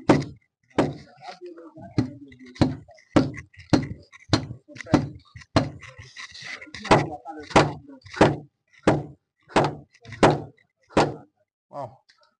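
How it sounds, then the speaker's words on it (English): Repeated hammer blows drive a copper earth rod into dug-out ground for a solar panel earthing setup, about twenty sharp metallic strikes at a steady, slightly uneven rhythm, close and loud, with some talk between hits. "All you have to do is just to keep hitting the earth rod down."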